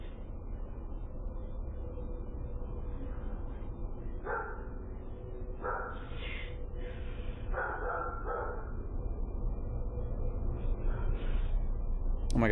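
A dog barks in several short bursts from some distance, caught on a home doorbell security camera at night over steady background noise.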